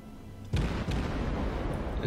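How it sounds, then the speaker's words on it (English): A US Clemson destroyer's guns in World of Warships firing on a battleship, one heavy booming salvo landing mid-clip with a rumbling tail and a few lighter follow-up reports over steady ocean-like background noise. "I'm firing away at the battleship because I know the smoke screen will actually prevent them from observing me"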